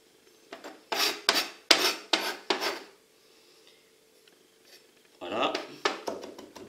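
Knife finely chopping an ingredient on a small cutting board for Greek-style pasta, a quick run of about eight crisp close strokes, a pause, then several more chops.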